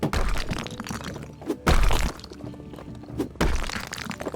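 Repeated hammer blows smashing an object in the House Flipper game: sharp cracking, thudding impacts with breaking debris, close and loud, spaced out over a few seconds with no talking.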